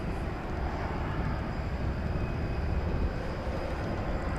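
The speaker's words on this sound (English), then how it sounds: "The Turkish Dreamliner is going bye-bye over the bridge." A Turkish Airlines Boeing 787 Dreamliner takes off, a steady, dense jet roar holding at an even level throughout, heard from a distance at the airport.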